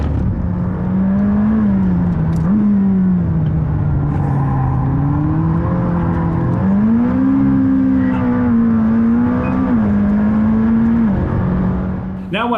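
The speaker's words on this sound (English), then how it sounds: "going for a lap with McLaren test driver Rob Garofel around Bruce McLaren Motorsport Park in Taupo" An orange McLaren LT accelerates around Bruce McLaren Motorsport Park in Taupo, the engine note climbing and dropping through gear changes in a loud, continuous onboard drone with repeated rises in pitch.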